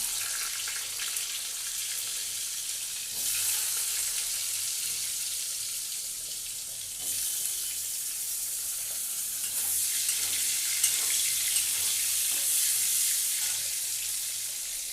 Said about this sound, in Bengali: আলুগুলোকে লাল লাল করে আমি ভেজে নেব।